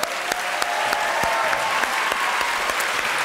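TV studio audience applauding, dense steady clapping with sharp individual claps standing out, loud and continuous for the whole three seconds.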